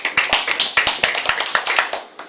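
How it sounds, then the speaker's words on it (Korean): Applause from a classroom or lecture audience at a civil-service exam prep academy, a quick burst of close hand claps with sharp, uneven rhythm lasting a couple of seconds. "뜨거운 박수 부탁드립니다."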